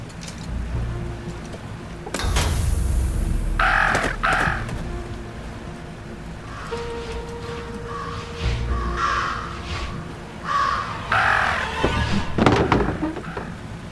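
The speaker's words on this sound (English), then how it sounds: "Talk about a murder of crows." Crows cawing in the video game Jenny LeClue: Detectivú, several harsh calls in bursts over a continuous low ambient backdrop, with a sharp louder whoosh or impact partway through and more calls clustered toward the end.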